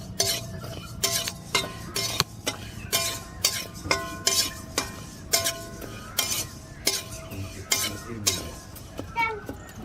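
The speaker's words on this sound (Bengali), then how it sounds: "প্রথমে আমি মুগ ডাল নিয়েছি, এখানে 50 গ্রাম মুগ ডাল আছে। এটা ভেজে নেব" Mung dal dry-roasting in a hot wok, a metal spatula scraping and clanking against the pan in a steady repeated stirring rhythm, with a faint sizzle underneath, close and fairly loud, no talk.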